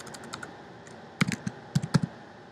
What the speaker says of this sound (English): you just type panorama